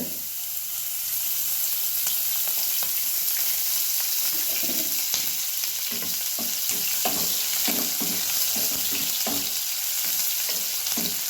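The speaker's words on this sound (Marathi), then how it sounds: "कांदा चांगला भाजून घेऊया त्याच्यात होतंय बघा तेल" Chopped onion frying in oil, a steady close sizzle running throughout with repeated scraping and stirring strokes in the pan, no voices.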